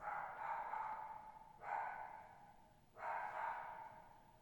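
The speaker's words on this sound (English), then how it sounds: "Sorry about the dog." A farm dog barks three times in slow succession, each a moderately loud, drawn-out bark a short distance away, with no talk over it.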